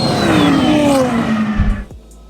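A twin turbo Lamborghini Huracan accelerating hard in a race against a McLaren 720S, a loud rising engine roar that sweeps past and fades quickly away.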